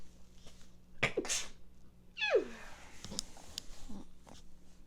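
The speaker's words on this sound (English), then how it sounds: "Oh, had to sneeze." A single sharp human sneeze indoors during a quiet tarot card reading, a quick intake followed by an explosive burst, close and fairly loud against soft background rustle.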